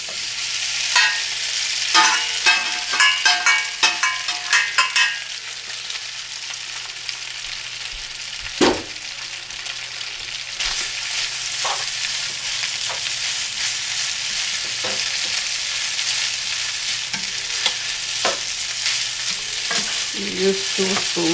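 Steady sizzling and crackling of noodles frying in butter, with clinking and scraping of spoons stirring in the pan, continuous and close.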